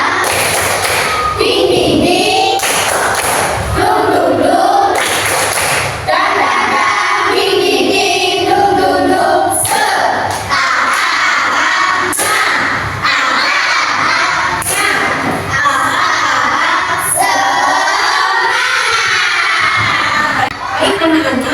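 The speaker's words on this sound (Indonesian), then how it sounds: "Dia pernah memberikan sebuah tepukan atau nyanyian seperti tepuk semangat." A school class performs the 'tepuk semangat' clapping chant, with rhythmic group clapping and loud children's shouted chanting in bursts, crowded and close throughout.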